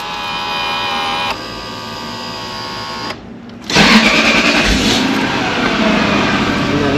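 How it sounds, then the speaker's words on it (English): A Lexus SC car engine cranks and catches after a brief pause, settling into a loud, steady idle with a broadband rumble, heard up close over a prior electronic whine. "let's start the car up."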